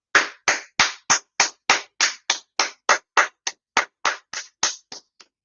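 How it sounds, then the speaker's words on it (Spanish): Slow, sharp hand claps, about twenty evenly spaced beats from a single close source with nothing else around them. "Aplausos. Aplausos."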